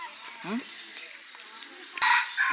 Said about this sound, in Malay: Burung apa? Ayam.